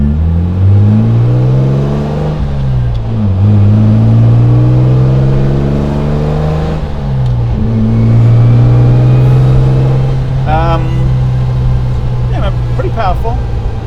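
A 1960 Maserati Vignale Spyder's strong, heavily rebuilt engine revs up and down loudly and close, its pitch rising and falling through several throttle blips before settling into a steady high idle, with someone speaking over it.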